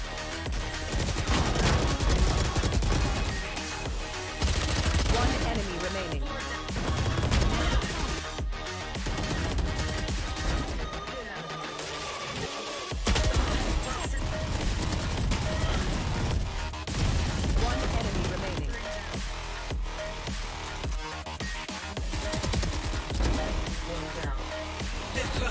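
Valorant rifle fire from the Vandal-class weapons, loud sustained full-auto bursts and rapid gunshots filling the whole stretch, with brief pauses between volleys and a dense clattering texture throughout.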